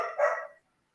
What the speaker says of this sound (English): Sorry if everyone can hear my dogs barking in the background.